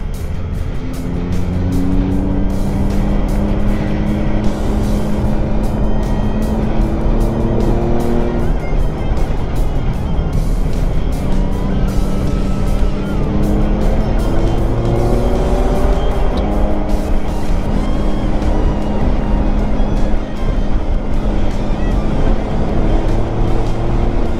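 An Alfa Romeo Giulia laps the Thunderhill race track, its engine droning loud and steady with rising and falling pitch as it accelerates and shifts, tires faintly squealing through corners, with continuous road and wind roar throughout.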